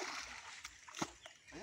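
Water splashing as someone bathes in a river: a few faint, brief splashes and sloshes, heard quietly under nearby voices.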